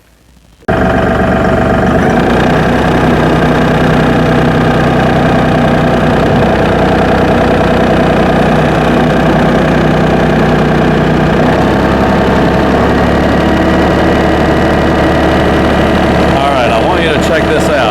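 A New Holland Workmaster tractor engine starts up after a silent moment and then idles steadily near 1500 RPM, a loud, close, even drone that holds without a break.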